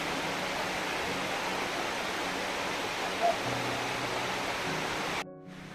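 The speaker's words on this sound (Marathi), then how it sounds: "हा असा आपला तापण्याचा धबधबा आहे" Constant broad roar of a waterfall, with faint low voices mixed in before the sound cuts off abruptly near the end.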